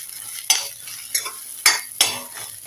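Hibiscus flowers frying in ghee in a pan: four distinct scraping stirs of a spatula, each with a brief burst of sizzle, over a quiet low hiss. Close and clear, with no voices.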